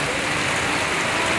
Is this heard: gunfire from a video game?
no